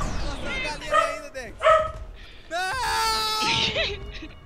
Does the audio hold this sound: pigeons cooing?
no